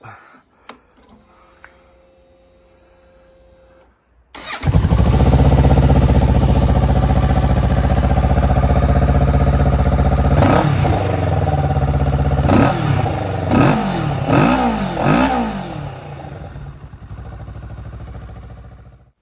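After a few quiet clicks, a Kawasaki Ninja 650 or Z650 motorcycle engine with a replacement exhaust starts and idles with a deep rumble, then revs sharply several times in quick bursts before settling.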